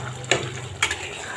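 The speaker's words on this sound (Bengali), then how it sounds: "আমি ভালো করে নিচে দিয়ে নেড়ে নিতেছি" A spoon scrapes and stirs through spicy goat meat curry browning in a pot, two short close scraping strokes over a soft sizzle.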